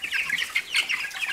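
A flock of chickens clucks and chatters busily up close, overlapping high, scratchy calls filling the moment without pause.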